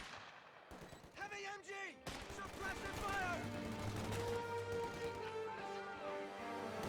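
Light 60mm mortar firing smoke rounds in Company of Heroes 2, with battle noise of repeated reports and booms that build into a busy, continuous din under game effects, with a brief whistling sweep near the start.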